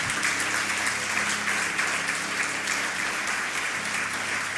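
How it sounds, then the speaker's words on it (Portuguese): A church congregation claps together in dense, steady applause that fills the room, with a faint sustained tone beneath it. "Glória a Deus, aplauda forte Jesus."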